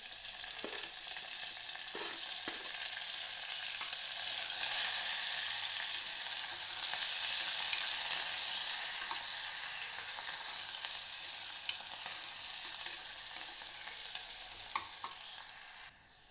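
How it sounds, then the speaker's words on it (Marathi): Chopped onion sautés in a pan for bajra khichdi, giving a steady, fairly soft sizzle with occasional light scrapes of stirring. "कांदा परतून घ्यायचा आहे चांगला गुलाबी रंगावर"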